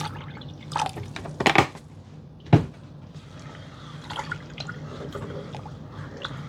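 Vinegar is poured into a container in short bursts, with splashy liquid gurgles and drips up close and quieter trickling between pours.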